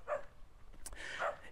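A dog barking on a village path in Nicaragua, two moderate barks about a second apart heard from a short distance over faint outdoor background.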